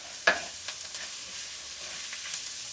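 Flour sprinkled over onions frying in fat in a pan for French onion soup, with one sharp scrape of the spoon at the start followed by soft, steady sizzling and light stirring.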